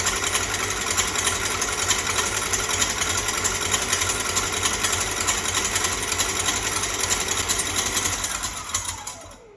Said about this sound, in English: I'm going to beat the egg whites until they're soft peaks